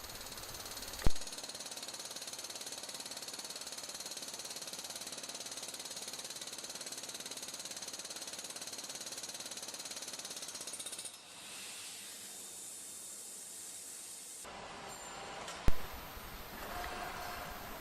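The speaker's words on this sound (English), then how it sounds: "This next step removes the ceramic sand shell, leaving the molded stainless steel parts attached to the runner." A ceramic sand shell is knocked off stainless steel castings by a loud, steady machine rattle that runs continuously, with a sharp bang near the start and another near the end, and a brief dip in between.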